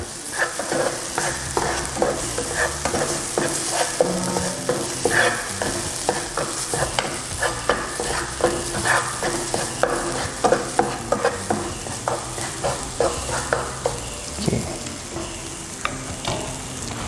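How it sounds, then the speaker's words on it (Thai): Thai curry paste stir-fried dry for pork panang, with a loud continuous sizzle and fast, rhythmic scraping of a spatula against the pan throughout. "แล้วก็เดี๋ยวเราก็จะผัดนะครับ ผัดให้เครื่องแกง นั้นแห้งนะครับ"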